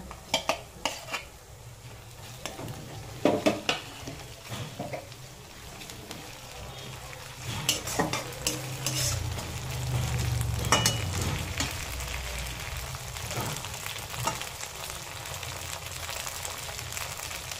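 Onions fried until reddish, then ginger-garlic paste added for ghugni with potato and peas, sizzling steadily in a pan with metal utensil clinks and scrapes throughout, the frying swelling louder midway, no voices.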